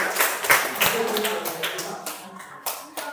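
A classroom audience claps for a student in a burst of dense, uneven claps and taps that thins out toward the end, with voices mixed in.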